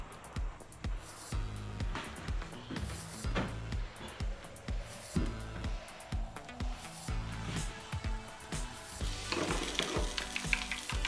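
Three eggs frying in hot oil, a continuous sizzle with rhythmic scraping and stirring strokes of a utensil against the pan, growing brighter and busier toward the end.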